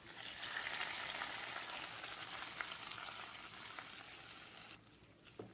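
Hot garlic tempering hits Hyderabadi khatti dal with a loud, bright sizzle that hisses steadily for several seconds, then abruptly drops away to quiet bubbling.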